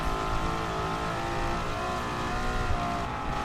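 1955 Mercedes racing car in a racing video game, its engine howling continuously at high revs as it races; a dense, steady roar with no pauses.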